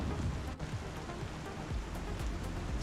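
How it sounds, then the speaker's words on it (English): Steady rain in the Star Citizen game, an even hiss of falling drops with low rumbling underneath like distant thunder, holding at a constant level with no talk. "And now I have a permanent rain sound."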